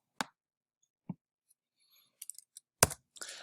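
Calculator keys are pressed in a few sharp, close clicks, spaced irregularly with short quiet gaps, ending in a quick cluster of taps.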